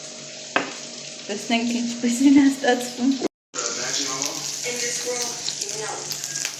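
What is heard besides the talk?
frying pumpkin dish in a pan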